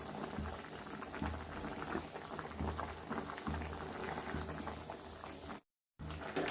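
Water boiling in a pot while cooking a dal bora curry with raw banana, a steady bubbling and gurgling at close range, briefly cutting out near the end before resuming.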